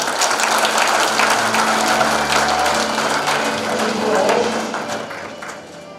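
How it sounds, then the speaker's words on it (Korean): Members at an association's annual general meeting in a hall give hearty applause, sustained dense clapping with a low hum beneath, gradually tapering off toward the end. "우리 모두를 위하여 힘찬 박수를 부탁드리겠습니다"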